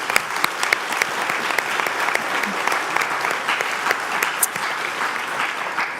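Loud, close applause from a crowd at a school graduation convocation, many individual sharp claps standing out within a continuous wash of clapping.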